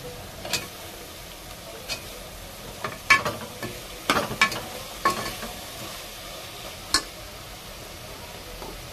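Chopped capsicum sizzles in a pan of spiced oil for vegetable pulao, a steady soft frying hiss broken by scattered sharp clicks and scrapes of a spoon stirring against the metal.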